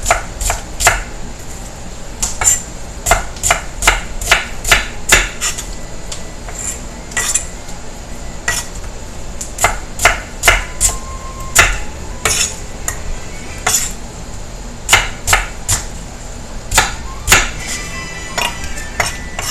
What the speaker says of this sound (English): so there'll be a little chopping here going on for a minute